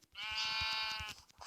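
A sheep in Minecraft bleats once in a long, wavering cry, loud and close, over faint rhythmic background thumps.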